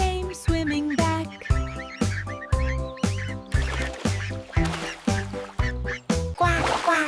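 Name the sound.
duck quacking in a children's song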